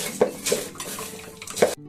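Homemade chanachur snack mix being tossed in a bowl makes close, scattered clinks and rustles, with a few sharper knocks against the bowl.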